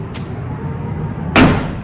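Tesla power trunk closing: a low mechanical hum runs under the motion, then a sharp, fairly loud thump as the lid latches shut near the end, with a brief click just before.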